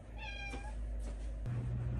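A house cat gives one clear, drawn-out meow up close indoors, followed by faint rustling and a low hum.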